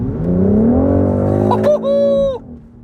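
The six-cylinder engine of a 2025 BMW X3 revs hard through a gear change, its pitch climbing steadily before easing off into a steadier, higher tone that cuts out abruptly.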